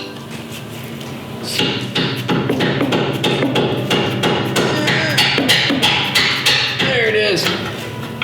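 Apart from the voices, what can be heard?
hammering coilover bolt through rear knuckle of Nissan 370Z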